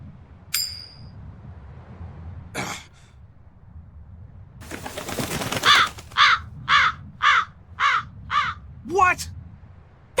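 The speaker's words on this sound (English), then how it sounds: "That crow just flew off with the coin!" Crow in Tales of Berseria giving a series of about six loud, evenly spaced caws near the end, following scattered game sounds and a burst of noise, with no talk over it.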